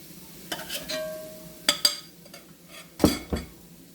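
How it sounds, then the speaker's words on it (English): Cooked deer meat is lifted out of a pot into a bowl, heard as a few separate metallic scrapes and clinks of a utensil against cookware, with soft rustles between them and no talking. "I'm just going to take my meat out of the pot, put it back in my bowl."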